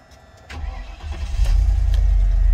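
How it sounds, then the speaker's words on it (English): A Range Rover P38 with a 4.6 V8 running on LPG cranks and fires up, the starter whirring briefly before the engine catches and settles into a loud, deep, throbbing idle close by. "The sound of that throbbing V8."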